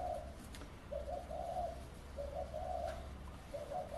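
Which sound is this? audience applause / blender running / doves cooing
doves cooing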